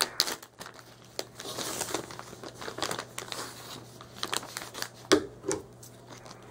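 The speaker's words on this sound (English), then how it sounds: "I just took a plastic bag, cut off a corner" Plastic crinkles quietly as scissors snip through a bag, with irregular rustling and a few sharper cuts over a low steady hum.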